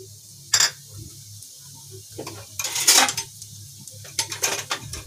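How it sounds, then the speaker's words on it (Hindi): Whole spices (a small piece of cinnamon, two green cardamom pods and half a teaspoon of cumin) go into a cooking pan for soya chaap masala, making brief close clinks, rattles and scrapes of metal cookware. "इन मसालों को मैं इसके अंदर डाल दूंगी।"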